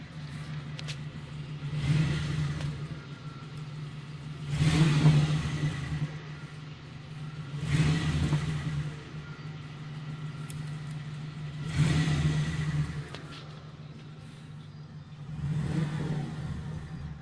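A 1992 Mercury Grand Marquis V8 with Flowmaster 40 mufflers idles with a deep burble, then revs up in repeated bursts roughly every three seconds, loud and close.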